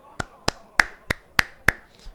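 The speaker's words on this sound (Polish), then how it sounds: "Bije brawa tu przy mikrofonie." A person claps hands close to a microphone, six sharp, evenly spaced claps in a steady rhythm, each crisp and loud against a near-silent background.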